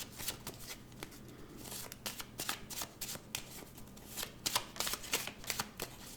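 Tarot cards are shuffled and cut for a reading, giving quick, riffling flurries of papery snaps in irregular bursts, close and fairly quiet, with no speech.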